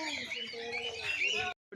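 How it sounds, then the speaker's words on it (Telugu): Plum-headed parakeets chatter in a zoo aviary, a quick run of bright overlapping chirps and squawks at moderate distance, with a person talking over them. "Parrots are both sitting up and chatting."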